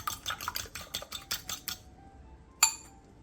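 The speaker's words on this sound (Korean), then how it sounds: "볼에 계란 2개와 다진 마늘 2분의 1티스푼, 소금 한 꼬집을 넣고 골고루 섞어주세요." Eggs, minced garlic and a pinch of salt beaten in a bowl, a quick run of rapid metallic clicks and scrapes that stops, followed by a single sharp clink after a pause.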